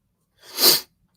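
One sharp, close sneeze, a quick breathy burst that swells and cuts off in under half a second, alone in silence.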